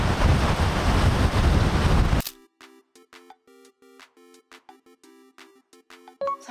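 Strong wind roars over the microphone at a seaside at sunset where high waves are breaking, loud and continuous for about two seconds before cutting off abruptly, leaving faint tonal sounds afterward.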